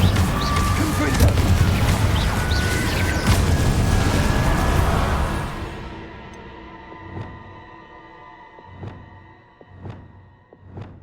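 Confringo blasting spell from the Hogwarts Legacy video game: a dense, loud burst of crashing blast noise fades after a few seconds, followed by a string of separate sharp impacts at a steady pace.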